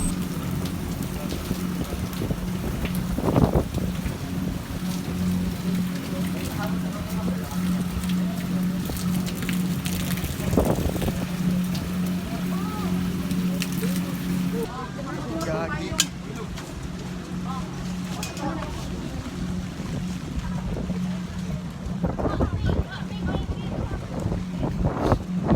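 Strong wind and rain batter a small boat at sea near Siargao, a constant rushing roar with gusty buffeting and engine drone, plus bursts of spray and knocks; voices are heard in the background.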